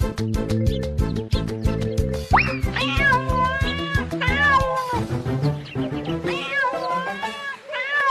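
A cat meows repeatedly in rising and falling wavering cries, loud and close, over steady rhythmic musical tones that fade toward the end.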